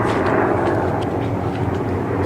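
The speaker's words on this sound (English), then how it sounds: "Nothing but helicopters just flying by." Helicopters flying by overhead, a steady, loud rotor-and-engine drone that holds unbroken throughout with no voices.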